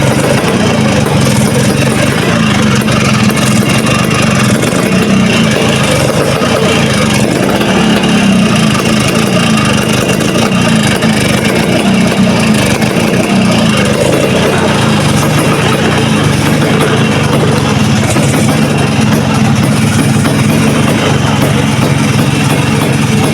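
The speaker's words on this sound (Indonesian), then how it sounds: "Nah, sekarang kita coba nyalakan ya teman-teman ya." A Vespa Exclusive 2 scooter with a weak, worn-out battery running steadily, a loud continuous close-up engine drone with little change throughout.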